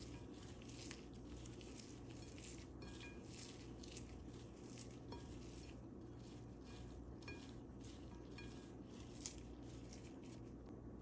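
Pakora batter being mixed in a bowl, the ingredients including chopped chili, coriander leaf, ginger garlic paste and salt: soft, continuous wet stirring and patting, faint and close, with no talking.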